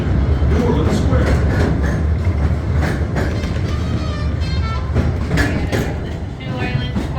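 A miniature railroad train at Disneyland rumbles and clatters along the track, wheels clicking with faint squeals as it slows into New Orleans Square Station, loud and continuous with voices in the background.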